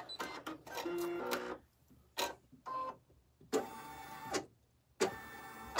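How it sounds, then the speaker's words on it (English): An embroidery machine stitches an outline directly onto stabilizer for an in-the-hoop bottle band, giving several loud bursts of rapid mechanical whirring and clatter separated by short quiet pauses. "So the first step, we're stitching right on the stabilizer."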